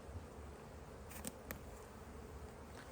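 A honeybee colony in an opened hive gives off a steady, dense buzz that fills the whole stretch, with a couple of brief sharper passes from bees flying close by.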